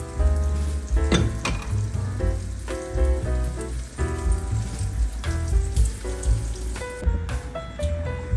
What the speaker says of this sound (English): So I'm just gonna keep on coating my oyster mushrooms with my flour and frying them up until we're done.